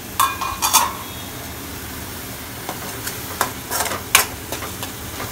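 Smashed onions sautéing in a pan, a soft steady sizzle with a few sharp scrapes and clinks of a spatula against the pan, close and fairly quiet.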